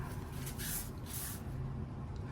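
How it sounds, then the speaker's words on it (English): Two quick hissing bursts of water from a spray bottle onto matte photo paper, close and soft, over a steady low background rumble. "Let's spray some more water on it."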